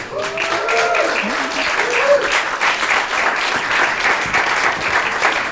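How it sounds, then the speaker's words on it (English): Audience applause and clapping for drag performer Miss Guy at a DQNY30 stage event, a dense, steady roar of many hands filling the room throughout, with a brief voice audible near the start. "Keep clapping while she makes her way upstage"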